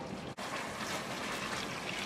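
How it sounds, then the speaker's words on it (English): Water pours steadily into a cooking pot for Caribbean hunter's chicken, making a continuous close splashing rush that barely breaks once early and then flows on evenly and fairly loud. "In goes my water."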